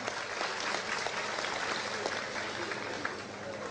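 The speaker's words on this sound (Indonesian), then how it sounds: "tepuk tangan buat Seno" Audience applause for a young student leader at a public discussion gathering, a fairly faint but continuous clapping texture that holds for a few seconds.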